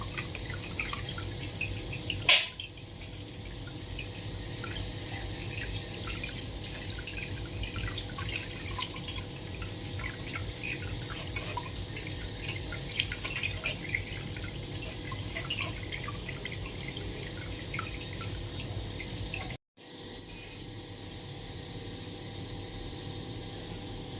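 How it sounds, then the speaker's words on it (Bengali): Squeezed chhana for rasgulla releasing water, heard as continuous close trickling and dripping with a sharp knock early on and a brief drop-out near the end. "দেখেন এই যে কত জল বেরোচ্ছে, এইভাবে নিংড়ে নিতে হবে।"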